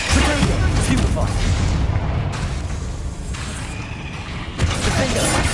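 Bombarda spell explosions in the Hogwarts Legacy video game boom out as loud, dense blasts with rumbling debris, layered over game combat noise and a voice.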